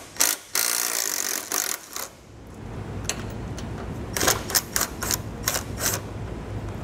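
A hand ratchet with a 15 mm socket works bumper bolts loose during a hidden trailer hitch install, giving bursts of quick, dry clicking, loud and close, separated by short pauses, with no talking.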